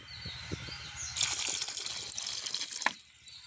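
Light handling knocks give way to a burst of running, splashing water as a bottle gourd is washed, steady for about two seconds with a few louder sloshes.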